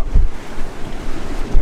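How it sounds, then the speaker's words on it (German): Waves and spray wash over a heeling Comfortina 32 sailboat under way in strong wind, a loud continuous rushing roar with heavier splashes at the start and end. "Sehr viel Wasser, was hier rüberkommt."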